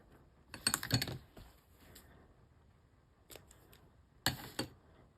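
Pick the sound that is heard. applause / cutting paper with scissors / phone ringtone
cutting paper with scissors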